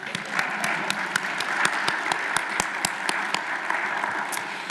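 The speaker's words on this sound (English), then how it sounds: "This would be a point in time when you could applaud." A crowd at an annual leadership awards gala breaks into sustained applause, with a thick wash of clapping and a few sharp, close individual claps standing out through the whole passage.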